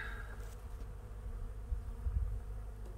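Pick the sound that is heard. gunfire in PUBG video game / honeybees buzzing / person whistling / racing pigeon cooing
honeybees buzzing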